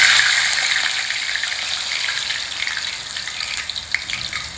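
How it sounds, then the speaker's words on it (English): Vadai batter fries in hot oil, a loud, close, steady hiss and bubble that eases slightly over time, with a faint clink near the end. "Shape the vadai on this, make a round and just invert it into the oil like this"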